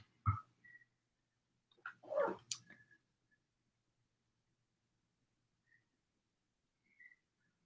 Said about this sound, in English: I can hear my dog, my tiny chihuahua crying in the background